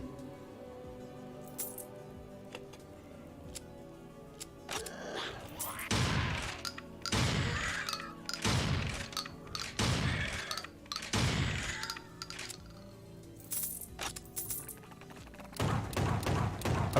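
Gunfire in Dusk-style boomer shooter gameplay: a run of loud, sharp shots in bursts, each with a booming low tail, spaced roughly a second apart amid a steady game soundtrack, with a few lighter clicks and taps between them.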